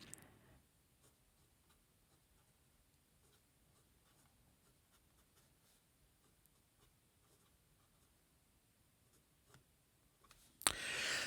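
A 1970s Montblanc 221 P fountain pen writes on paper, its soft nib scratching in a quiet, steady run of faint strokes close by, ending with a louder rustle.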